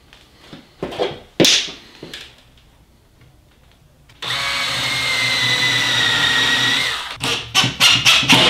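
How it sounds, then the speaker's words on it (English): A circular saw runs along a track-saw guide fence in a sustained loud whine of about three seconds, preceded by scattered clicks and handling knocks and followed by sharp taps as it winds down. "do now is to run the circular saw along the fence once."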